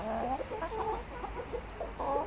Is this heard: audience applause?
no